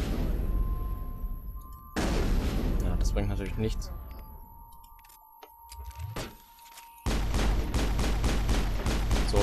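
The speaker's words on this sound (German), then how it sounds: "Und da unten knallt jetzt irgendjemand ab." Gunfire in the video game Mass Effect crackles in rapid bursts, loud at the start and again near the end, with a quieter stretch between, while someone speaks over it.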